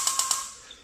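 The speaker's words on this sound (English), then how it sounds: "When you turn it over, this is the igniter, sound like this." Igniter on a Bushmaster dragster engine sparking: three quick, sharp ticks in a fast even row, then a fainter fourth, close and quiet with nothing else around.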